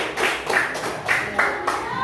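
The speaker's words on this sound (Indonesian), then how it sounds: "Dikasih tepuk tangan dulu, Nak." A group claps steadily, with hand claps blending into a continuous patter and a few louder peaks, with faint voices underneath.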